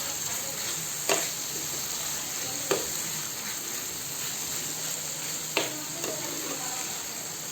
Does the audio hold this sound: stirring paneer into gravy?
yes